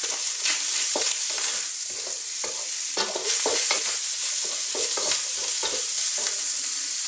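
Bacon with chopped onion and sliced fresh garlic frying in hot oil in a pan, a steady close sizzle broken by frequent scraping stirs, with no talking.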